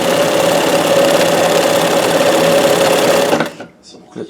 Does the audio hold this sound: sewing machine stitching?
yes